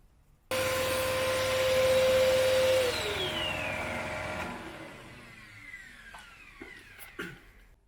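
Pen blank sanded with P120 grit sandpaper on a spinning lathe: a steady, close motor whine with hiss, then the machine winds down with falling pitch and a few faint clicks.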